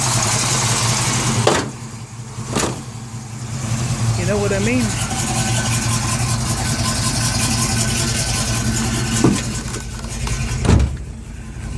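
A 1971 Plymouth GTX with a V-code engine idles steadily at close range with a low, even rumble, a few sharp knocks along the way and someone talking over it.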